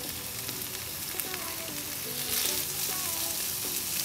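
Two cloves of chopped garlic sizzle and crackle steadily in an oiled pan, a close, continuous frying hiss that grows slightly louder toward the end.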